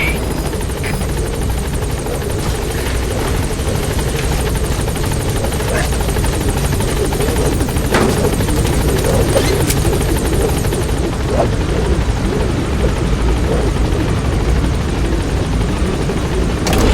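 The Pequod helicopter in Metal Gear Solid V arrives at a landing zone, its loud, continuous rotor and engine drone filling the scene throughout.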